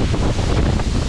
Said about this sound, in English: Never been here when it's been this gusty,